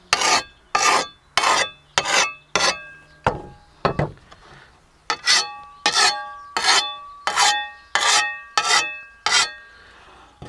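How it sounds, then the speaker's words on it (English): A rough hand file rasps along a hand rake's blade in about a dozen loud, close, rhythmic strokes. There is a brief pause with a light knock midway, then the sharpening resumes at the same steady pace. "All you need is a rough file and a little bit of elbow grease just to put the edge back on the blade."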